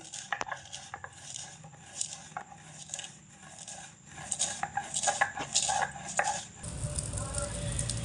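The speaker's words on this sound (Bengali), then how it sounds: "এবার আমি ভেজে রাখা মশলাগুলোকে শিলনোড়ায় ফেলে বেটে নেব" Fried spices being ground on a Bengali shil-nora grinding stone for raw mango laddu: repeated close, gritty scraping strokes with sharp knocks of stone on stone, heard alone, turning into a heavier, continuous rumbling grind near the end.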